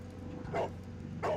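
Toby the dog in a Sherlock Holmes game gives two short, loud barks about half a second apart, close by, over a steady low background hum.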